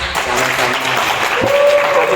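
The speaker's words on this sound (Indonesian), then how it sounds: "Beri tepuk tangan untuk Pak Bas." Dense audience applause at a live comedy podcast show, steady and fairly loud for about two seconds, with a faint voice briefly surfacing near the end.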